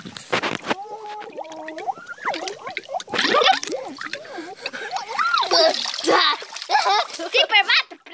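A child plays in a swimming pool, with splashes and water sloshing in bursts between the excited voices of children and adults talking nearby.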